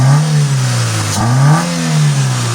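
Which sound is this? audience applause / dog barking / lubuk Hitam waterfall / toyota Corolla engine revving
toyota Corolla engine revving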